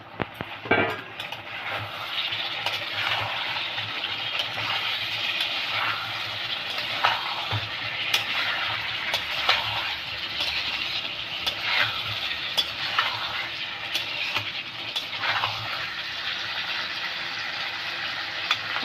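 Fried pieces of elephant foot yam sauté in a pan for a Bengali curry, giving a loud, continuous close sizzle with frequent scraping stirs and no speech.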